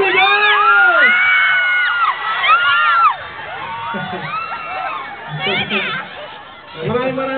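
A large concert crowd at Marikina Amphitheater shouting and cheering loudly, with high excited yells and whoops rising and falling continuously, a voice or two calling over the roar.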